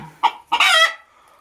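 A single rooster crows up close: a couple of short clucking notes, then a loud, harmonic drawn-out crow that fades, with no talking.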